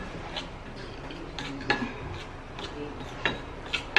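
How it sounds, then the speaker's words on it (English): A spoon stirring a baking soda mixture in a glass, with soft scraping and a few sharp clinks against the glass over a low background hiss. "So you continue stirring"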